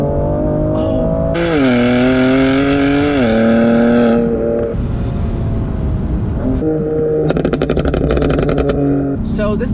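BMW F80 M3 Competition with a 550-horsepower engine and DCT transmission, driven hard on a track: a loud, close engine note that climbs through the revs, snaps through quick shifts and crackles, while people talk over it.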